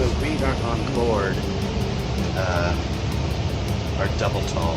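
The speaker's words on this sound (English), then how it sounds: "It's a double tall bus." Interior of a double-decker bus moving through Seattle, with a steady engine and road rumble filling the cabin and faint voices chattering underneath.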